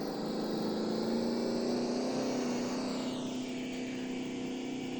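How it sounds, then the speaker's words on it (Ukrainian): A car engine in a video game revs steadily with a sustained droning tone that shifts slightly in pitch, loud and continuous with no talking over it. "Давайте ще погазую."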